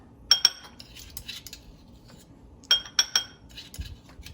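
A metal tablespoon scrapes and clinks against a bowl while making autumn couscous salad, two quick pairs of sharp close taps separated by quieter scraping and shuffling.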